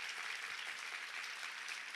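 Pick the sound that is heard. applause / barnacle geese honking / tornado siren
applause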